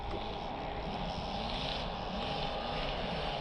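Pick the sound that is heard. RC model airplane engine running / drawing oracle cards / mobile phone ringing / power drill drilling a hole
RC model airplane engine running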